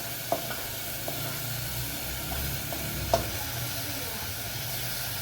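Vegetables sautéing in a pan for sweetcorn masala rice give a steady soft sizzle with a few sharp scraping stirs of a spoon, close and moderately loud, with no talking.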